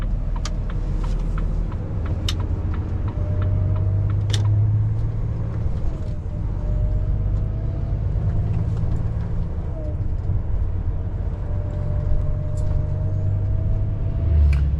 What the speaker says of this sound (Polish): Zobacz jaki fajny autobusik miejski.